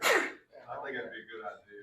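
A single sharp sneeze bursts out at the start during a county line town hall meeting, followed immediately by someone talking.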